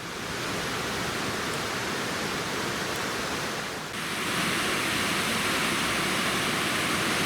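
Glade Creek in the New River Gorge rushes at low water, a dense, steady roar of flowing water that stays loud and unbroken throughout.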